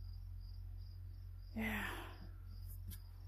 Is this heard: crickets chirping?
yes